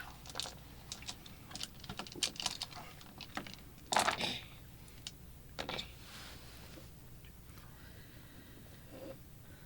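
Dice rolling during a tabletop role-playing session make a run of scattered clicks and rattles, with a louder clatter partway through, fairly faint against a quiet room.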